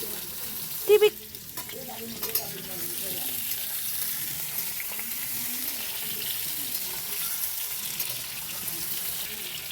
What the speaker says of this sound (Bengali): প্রথমে আমরা আলুটা ভেজে নিচ্ছি